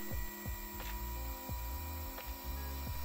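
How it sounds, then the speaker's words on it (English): A Carvera CNC machine drills holes and cuts out a PCB, giving repeated mechanical clicks and short descending whirring sweeps at irregular intervals over a steady high motor whine, fairly close and without voices. "it'll do the drilling of the holes and also the cutout."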